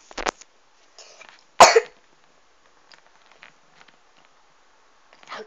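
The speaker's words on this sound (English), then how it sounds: "How dare you cough when we're filming?" A single sharp cough rings out in an otherwise quiet space, surrounded by faint rustles and small handling noises.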